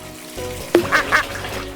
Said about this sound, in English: Is it the rubber ducks?